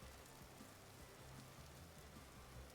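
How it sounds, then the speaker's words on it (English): Steady rain falls across the landscape in the survival game Vintage Story, a continuous hiss of drops on surfaces with a low rumbling undertone, even and unbroken throughout. "And now it's raining."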